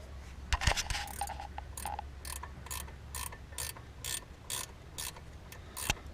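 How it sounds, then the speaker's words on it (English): Wrench clicks and ratchets while a brake caliper bleeder valve is cracked open on a seized 2003–2008 Toyota Corolla, a steady series of close mechanical ticks and scrapes with no talking. "So I'm gonna crack this bleeder valve open."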